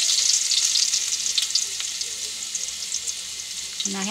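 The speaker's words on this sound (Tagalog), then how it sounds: "mainit na po yung ating mantika sa ating kawali guys. Magisa na po tayo." Garlic sautéing in hot cooking oil in a pan, a steady close sizzle and crackle of frying that runs throughout, with brief stirring scrapes and a faint low thump near the end.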